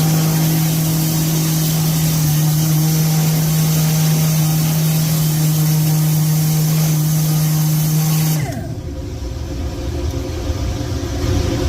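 A valve seat grinder dresses its stone while working on a 1950 Dodge 230 engine, giving a steady loud close whine with a sustained tone that cuts off abruptly about two-thirds through, leaving a lower motor hum.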